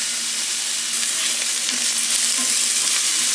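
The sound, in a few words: peppers frying in oil for bibimbap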